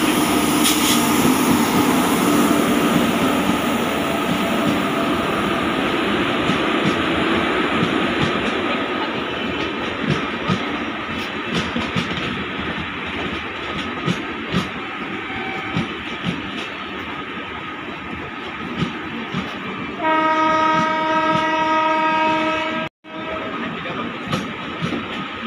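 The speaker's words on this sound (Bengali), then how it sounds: "4 নম্বর প্ল্যাটফর্ম দিয়ে থ্রু ট্রেন যাবে অনুগ্রহ করে নিরাপদ দূরত্বে" The Madar Kolkata Express runs through a railway platform without stopping, a loud sustained roar of wheels and carriages rushing past close by, then a long blaring horn blast near the end.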